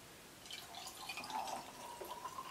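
Bones Coffee salted caramel cold brew poured from a container, a soft, steady trickle of liquid with light drips, faint and close, with no talking over it.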